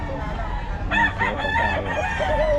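A Golden Boy sweater gamefowl rooster crows loudly and close, one drawn-out cock-a-doodle call rising then trailing off, over a background murmur.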